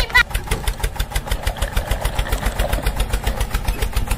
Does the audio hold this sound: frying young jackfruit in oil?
no